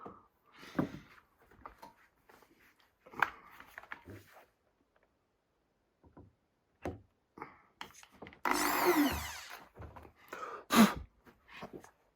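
A brief whirring burst of a power drill with a 4.3 drill bit spins up and bites into material for about a second, surrounded by quiet and scattered knocks.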